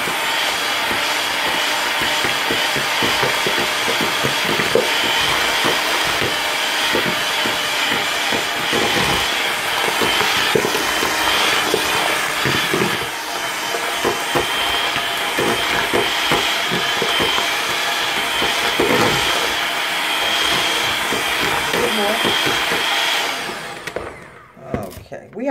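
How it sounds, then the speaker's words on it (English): An electric mixer runs steadily through spice cake batter before the eggs go in, a continuous close whir with scraping and knocking against the bowl, ending abruptly near the finish. "Mix it all together before we add the eggs in."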